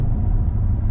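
Deep, steady low rumble from a Chevrolet C8 Corvette Stingray coupe during a failed launch-control attempt in a parking lot, with no traction; a brief, close engine drone with no talk.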